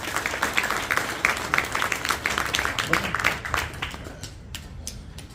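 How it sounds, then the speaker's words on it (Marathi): An audience claps at the lamp-lighting inauguration of a lecture series in Nashik, with steady, fairly close applause of many hands that gradually thins out toward the end. "सर्वांनी जोरात याच्यासाठी टाळ्या झाल्या पाहिजे."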